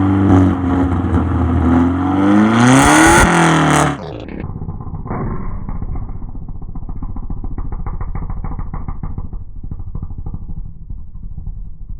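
Turbocharged Toyota Corolla engine revving hard, the pitch sweeping up to a loud peak before cutting off abruptly, then settling into a rough, pulsing idle with turbo flutter, close and loud with no talking.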